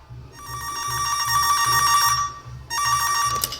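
A telephone rings at the start of a recorded business call, giving two clear bursts of a bright electronic trill separated by a short gap, close and with no talking.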